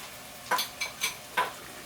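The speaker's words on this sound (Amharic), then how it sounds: "አሁን ቶሎ አማስላለሁ እንዳያርብኝ" A spoon stirs Ethiopian fasting firfir with cumin in a pan: four quick, close scraping strokes over a faint steady background hiss.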